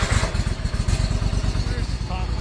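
A Cub Cadet mower engine catches and runs steadily, its loud, rumbling idle pulsing evenly close by throughout.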